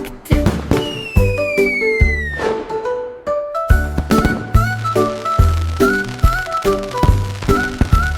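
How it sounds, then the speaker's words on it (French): Cartoon fireworks effects in an animated children's song: whistling rockets sliding in pitch followed by sharp bursts and pops, repeated in a lively rhythm over bright musical tones, loud and close. "Les feux d'artifice de Jack ont illuminé la voie lactée."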